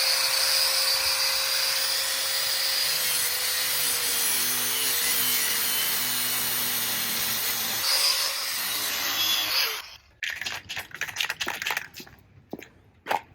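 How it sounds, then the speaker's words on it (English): A grinder cuts into the metal of a van seat swivel with a loud continuous whine for about ten seconds, then stops and leaves scattered scraping and clicking noises. "we got to grind off this thing"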